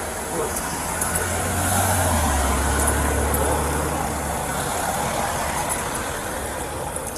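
A car engine idles steadily during a police stop of a drunk driver, a low continuous rumble with road and wind noise, while voices talk over it.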